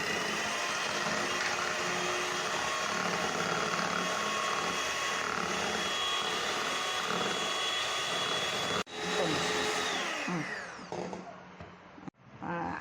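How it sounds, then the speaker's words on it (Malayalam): An electric mixer beats egg whites for a no-oven chocolate cake, a loud steady whirring drone that runs without a break for about nine seconds, then falters and winds down with brief stops near the end. "മുട്ടയുടെ വെള്ളയൊന്ന് ബീറ്റ് ചെയ്തെടുക്കാം."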